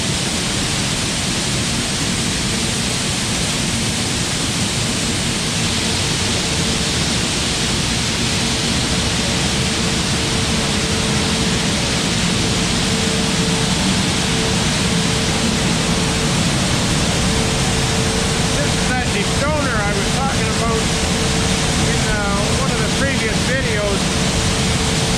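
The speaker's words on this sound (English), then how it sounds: "You start all the motors right from here." Motors in a seed warehouse run together, started from a control panel: a loud, unbroken broadband roar and whir that holds steady throughout, with faint voices surfacing near the end.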